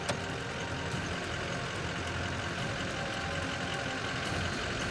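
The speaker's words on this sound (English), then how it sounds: "A single truck almost hits the frightened elk." A single truck drives past on a road where elk are crossing, a steady, fairly faint broadband engine and tyre rumble that holds evenly throughout with no voices.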